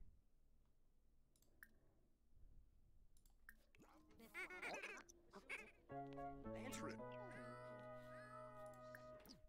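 A cat in The Sims 4 gives a few rising and falling meows in the middle of the clip, followed by sustained tonal game sounds, with background noise throughout.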